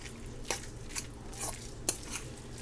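A spoon stirs an egg into a bowl of broken-up canned salmon for fritters, giving soft, faint wet squishing strokes with a few sharper clicks against the bowl in an uneven rhythm.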